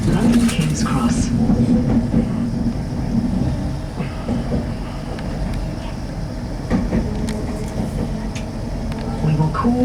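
On board an LNER Azuma train, a steady low rumble of carriage and track noise runs throughout, with faint clicks and a brief louder patch near the start, and no talk heard.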